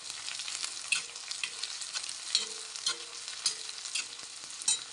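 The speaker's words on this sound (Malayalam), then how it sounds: "ഒന്നുകൂടെ നമുക്കൊന്ന് ഇളക്കി കൊടുക്കാം." A chundakka stir-fry with crushed chilli sizzles steadily in a pan while it is stirred, with a constant frying hiss and small scraping clicks, close and alone.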